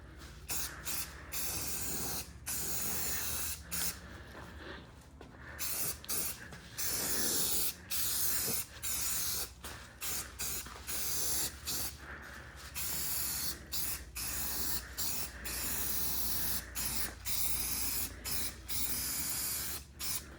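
An aerosol can of sandable primer sprays in repeated bursts, loud close hissing blasts of a second or two separated by short gaps, continuing through the whole stretch without talk.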